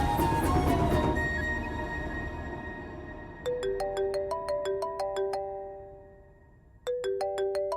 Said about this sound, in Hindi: रचना, अच्छा हुआ तूने हमारा फोन उठा लिया।